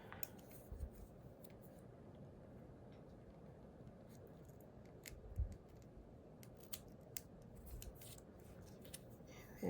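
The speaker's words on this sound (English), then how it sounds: "Let me cut a little bit of that off" Scissors snip through paper during a card-making session with floral stem die cuts, giving a few soft, close cuts spread through a steady low background hum.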